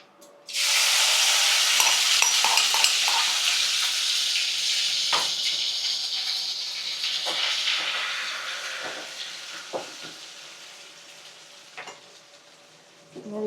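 Masala spices sizzling and frying in a hot pan, a loud steady hiss with scattered scraping clicks as they are stirred, gradually easing off toward the end.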